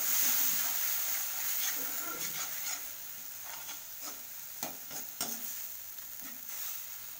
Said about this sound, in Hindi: इसमें ऐड कर देंगे टमाटर, इसको भी भून लेंगे ब्राउन होने तक